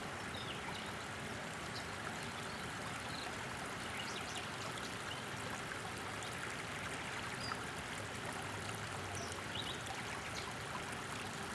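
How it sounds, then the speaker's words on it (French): Water in a shaded stream trickles and cascades over stones, a soft continuous babbling and gurgling at low level, steady throughout with no voices. "les bourdonnements de l'eau qui cascade"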